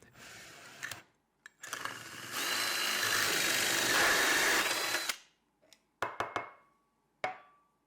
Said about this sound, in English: I'm just sort of letting the drill bit ride along the inside edge